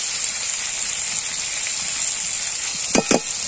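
Egg tadka masala with chopped chilli and tomato sizzles steadily in a pan, a close continuous frying hiss with a couple of brief stirring scrapes near the end.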